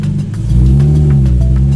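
A turbocharged Nissan 370Z with a stage 4 six-puck clutch roars close by, its engine rising into a loud steady drone as it revs through a gear.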